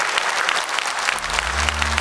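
An audience at a Tamil speech event applauds, a dense steady wash of many hands clapping, with a low hum joining toward the end and no clear speech.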